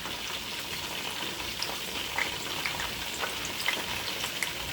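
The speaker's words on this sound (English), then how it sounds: "I'm gonna brown my sausage." Turkey sausage browns in oil in a frying pan alongside chopped onion for fried rice, a continuous close sizzle with scattered pops and crackles throughout, no voices.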